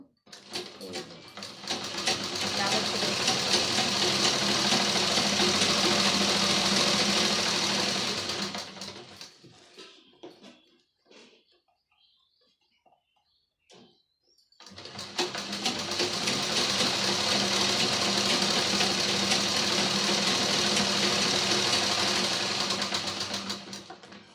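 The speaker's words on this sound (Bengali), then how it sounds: "আরেকটা সেলাই দিয়ে দিব তাহলে ওটা বসবে দুই মাথায় সেলাই দেব" A sewing machine stitches a homemade cloth shopping bag in two long, steady runs of loud mechanical whirring, separated by a brief quiet pause with faint handling noises.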